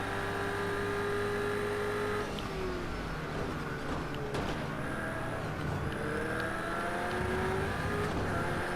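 Race car engines in a racing video game, including BMW cars, roar continuously and loudly, with rising and falling revs as gears shift and cars jostle, with no voices over them.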